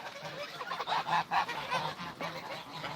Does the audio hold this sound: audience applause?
no